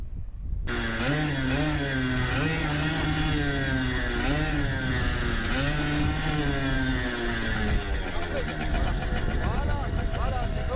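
A beginner rides a motorcycle and works the throttle, the engine revving up and down in rising and falling sweeps, loud and close, with people talking over it throughout.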